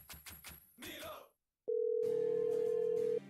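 Telephone tone in a radio advert, a steady electronic beep held for about a second and a half after brief talk and a short silence, loud and close, with voices and music underneath.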